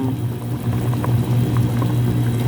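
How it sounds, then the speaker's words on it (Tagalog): Chicken adobo broth bubbling in a cooking pot, a steady close simmering burble with small pops and gurgles running throughout, with no voices over it. "O sa dihang nagbukal-bukal na."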